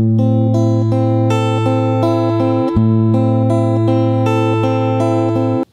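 Travel guitar picked string by string with the right hand in a repeating pattern over a sustained chord, each note ringing clearly. The bright, even plucks carry on steadily with one brief break in the middle and play alone with no talking.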